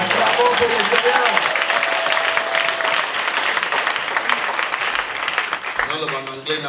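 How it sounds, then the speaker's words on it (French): A church congregation at a miracle night service claps and cheers loudly for the Lord, continuous dense applause mixed with crowd voices, and a speaker comes in near the end. "Acclamons pour le Seigneur."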